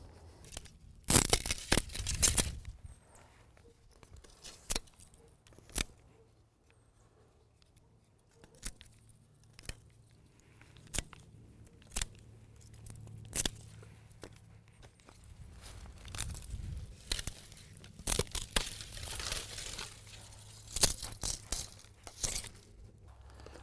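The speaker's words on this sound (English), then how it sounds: "To cut my canes, I'm using a simple pair of pruning shears" Pruning shears snip bamboo canes outdoors for a solitary bee habitat. Scattered sharp, faint snaps come at irregular intervals over soft rustling and crinkling.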